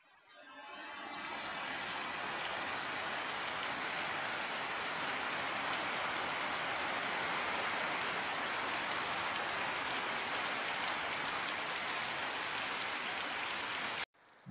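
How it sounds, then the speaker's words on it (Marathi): Heavy monsoon rain pours down in Konkan, a dense, steady roar that swells in over the first second and then holds loud and unbroken until it cuts off near the end. "आणि हा अचानक आला पाऊस जोरदार"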